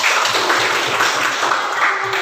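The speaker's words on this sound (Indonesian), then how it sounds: "Tepuk tangan untuk pembuktian" A classroom group applauds together, a dense burst of close, fairly loud clapping that holds steady for a couple of seconds.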